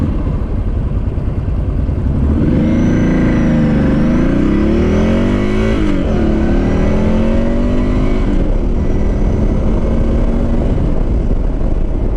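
An engine revs and climbs steadily while riding a little-known older motorcycle, with rising and falling pitch sweeps over a continuous roar and wind rush, loud and close throughout with no talking.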